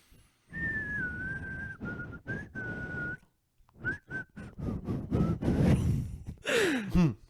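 A lone person whistles a melody in short, clear phrases broken by pauses, then trails off into breathy, falling sounds near the end.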